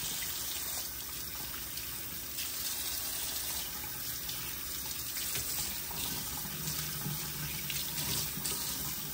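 Tap water runs steadily into a sink while pork spare ribs are washed for sinigang, a constant close splashing hiss with slight variations as the meat is handled, no talk.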